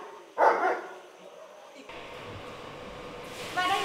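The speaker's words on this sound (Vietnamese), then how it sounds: "Đây là chó Betsy." A working dog at a border guard service dog training school barks once, sharp and fairly close, followed by a steady noisy outdoor background with talking.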